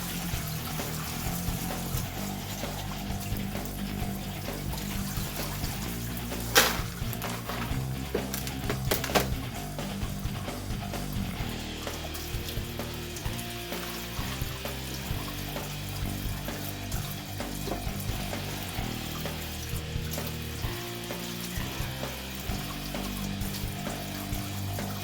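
Tap water runs steadily over gold nuggets being rinsed in a sink, a continuous close splashing wash with a few brief knocks and clatters partway through, heard alone.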